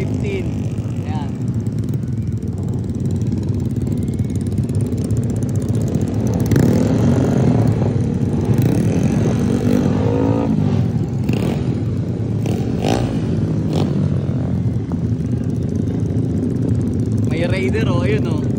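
A Yamaha R15 motorcycle rides a figure-of-eight practice course, its engine droning and rising and falling in revs throughout, with people talking loudly over it.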